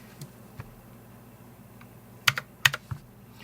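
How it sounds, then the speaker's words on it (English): Keys clack on an E-Blue K753 keyboard, a few sparse taps at first and then a quick cluster of sharp, close presses near the end, with no talking. "It actually, just in terms of hitting the keys, well, me failing miserably at typing because I'm at a weird angle"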